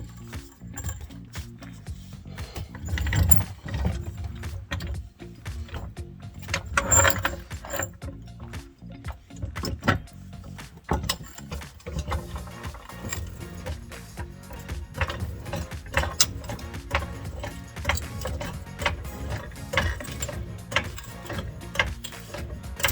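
A floor jack lifts a 2015-2022 Ford Mustang by the main frame rail, steady mechanical clicking and ratcheting with metallic knocks repeating through the clip, close and moderately loud.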